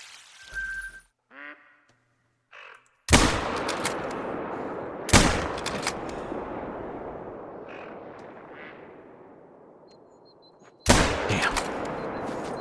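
Hunting rifle shots in theHunter: Call of the Wild, three loud cracks each trailing off in a long rolling echo, after a few faint bird calls at the start.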